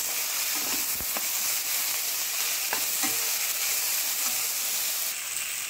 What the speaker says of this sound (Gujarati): તો હવે આપણે એમાં ટામેટા એડ કરી દઈશું। ટામેટાને પણ થોડી વાર આપણે શેકાવા દઈશું।